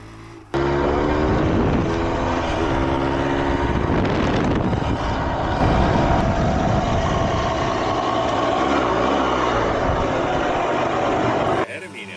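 A Yamaha GT200 motorcycle revs hard as it rides off, a loud, raspy engine roar that rises and falls for several seconds, with voices talking over it.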